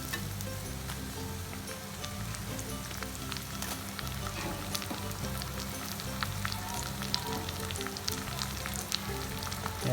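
Chopped onions and chicken liver frying steadily in a pan, a continuous close crackling sizzle with dense popping, no voices.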